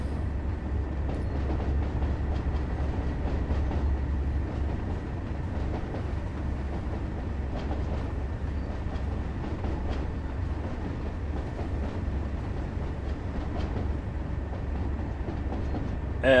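Train rolling steadily along rails in a VR train simulator game, a continuous low rumble with faint rhythmic wheel clatter, fairly loud and unbroken throughout, with no talking.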